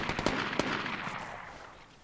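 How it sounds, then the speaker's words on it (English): Gunfire in the Vigor video game: a pistol trading shots with a three-round burst weapon, sharp cracks clustered in quick bursts that fade into a lingering echo, loud and near. "It's a pistol fighting for their dear tiny life against somebody with a 3-round burst weapon"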